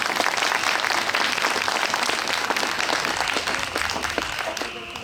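An outdoor audience at an evening church-courtyard concert by a chamber orchestra applauds to welcome a soloist: a dense, steady wash of many clapping hands that holds evenly, then thins slightly at the end.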